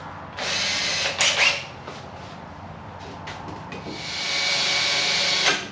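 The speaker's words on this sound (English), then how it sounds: "Drill a couple of holes." A power drill bores holes while a fire pit is being built, with two bursts of high whining drilling and a quieter stretch of lighter drilling in between.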